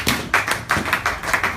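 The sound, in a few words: congregation clapping hands for the Lord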